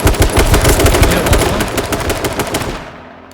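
Rapid automatic gunfire in the H1Z1 video game, a loud dense burst of shots in quick succession that fades out toward the end, with no voices over it.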